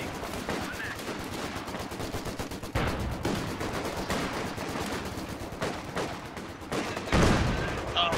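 Dense, continuous battlefield gunfire in Company of Heroes 2, with rapid machine-gun bursts and scattered rifle shots running nonstop at moderate loudness, broken by a couple of louder blasts.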